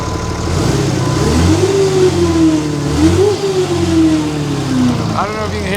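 A revving car engine fitted with a replacement turbo that has become noisy after 12,000 miles. The engine roars up and down in pitch twice, with a rising whine over a rough drone, close and loud.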